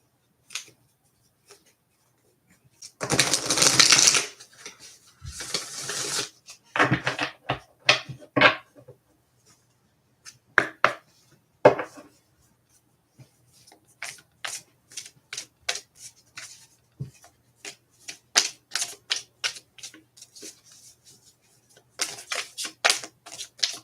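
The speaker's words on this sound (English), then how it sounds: "I gotta cut the deck again." A tarot deck is cut and shuffled by hand, giving a dense riffling burst followed by scattered soft card taps and flicks, close and fairly quiet with stretches of near silence.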